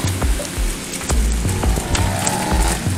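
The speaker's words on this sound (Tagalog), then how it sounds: "Yan tuloy. Hinabutan tayo ng ulan." Rain falls steadily on an outdoor street in Singapore, a dense close patter with scattered louder drops across the whole stretch, heard alone.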